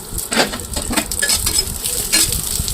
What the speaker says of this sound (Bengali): তেল গরম করে ভালো করে তেলের মধ্যে লালচে লালচে করে ভেজে নিতে হবে পটলগুলো